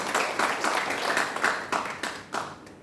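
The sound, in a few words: congregation applause in church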